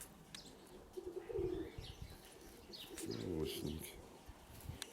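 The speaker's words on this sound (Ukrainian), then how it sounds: "держу голуба під мишки" A young pigeon held under someone's arm coos in low throaty bursts and briefly flaps its wings, close and fairly quiet, with faint rustling between.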